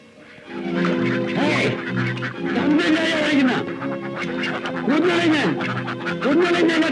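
Ducks quack repeatedly in loud, close bursts, sometimes overlapping, while voices talk through the sounds.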